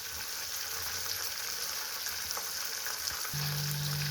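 Homemade ghee heating in a pan with cardamom pods and betel leaves, a steady close fizzing sizzle with a soft low hum joining near the end.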